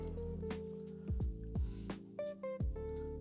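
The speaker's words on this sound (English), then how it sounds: "I'm gonna just wring it into this bucket here." A soapy wash mitt is wrung out over a bucket during a truck foam wash, giving close, wet squishing and squeaky bursts with drips that come in several short pulses.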